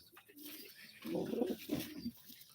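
Soft, low tumbler pigeon cooing close by, a murmuring throaty call against faint background hiss.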